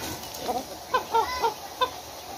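Chickens cluck at feeding time on a farm in the Philippines, giving four or five short, separate calls at a moderate distance over a quiet background.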